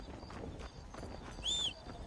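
Horse hooves clip-clop in a short, even walking rhythm in the Western video game Red Dead Redemption, fairly faint and alone, with a brief high tonal chirp near the end.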